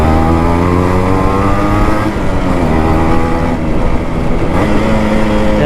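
A restored Yamaha RX two-stroke motorcycle engine revs loudly and up close while rev matching, its buzzing pitch climbing and dipping through several throttle blips with no voices.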